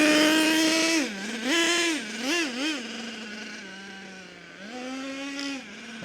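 Small RC nitro truck engine idling, a nasal buzzing drone close by that blips up and wobbles in pitch several times before settling into a steady idle, with no talk over it.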